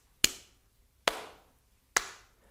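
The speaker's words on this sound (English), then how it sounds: "Why can you hear that clap?" Three single sharp hand claps, each crisp and close, spaced about a second apart in a quiet room, with a short room decay after each and silence between.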